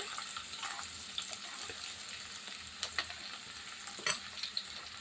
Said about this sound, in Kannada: ಈಗ ಈರುಳ್ಳಿ ಹಾಕ್ತಾಯಿದ್ದೀನಿ ನೋಡ್ರಿ